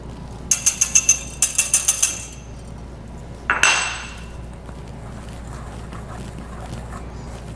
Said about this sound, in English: we're going to simply whisk the flour and the baking soda together so we have a homogeneous mix